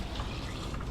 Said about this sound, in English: we're gonna fill up this radiator with some of the city of Milton's finest water